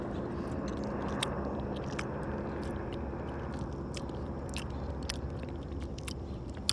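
Someone eating a lychee, a fruit with juicy pulp and a large seed, close up, with wet chewing and squishing plus a few sharp clicks, steady and alone with no talk.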